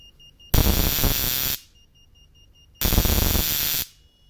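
Two loud bursts of harsh electrical buzzing from a battery-connected transformer, each about a second long, separated by a quiet stretch with a faint high whine.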